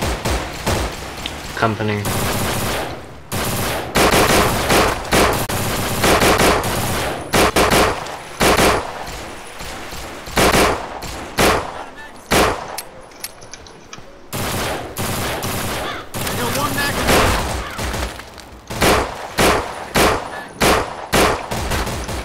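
Pistol fire from a Glock 17 in the zombie game NMRIH, many loud sharp shots in irregular clusters and rapid volleys over about twenty seconds, with a brief spoken word and background game noise.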